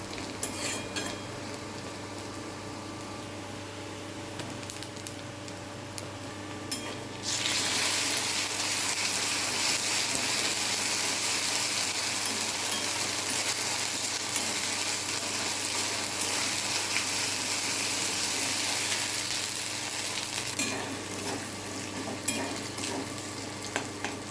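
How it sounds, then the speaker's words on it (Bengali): Onions fry with ginger garlic paste in a pan for egg curry, a continuous close sizzle that swells louder partway through, with occasional scrapes and clinks of stirring. "পেঁয়াজ হয়ে গেছে, এবার এর মধ্যে দিয়ে দেবো আদা রসুন বাটা।"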